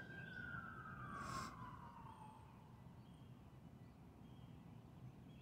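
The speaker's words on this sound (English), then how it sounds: "they sound like they just sitting right there with their sirens on" Emergency vehicle siren outside, parked rather than moving: a single faint, distant wail sweeping downward over a low steady background hum, with no talk.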